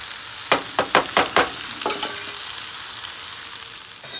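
Shrimp dropped into a hot pot for Jamaican-style curry shrimp, a quick series of four or five sharp splattering hits followed by a steady, close sizzle with no talking.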